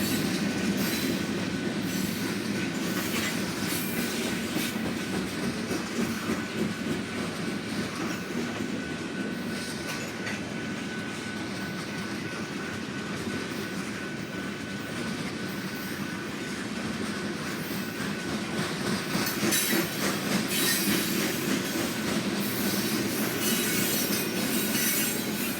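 A freight train of boxcars and hoppers rolls past near Rosenberg, a steady close rumble of wheels with rhythmic clacking over rail joints and occasional high squeals, no voices.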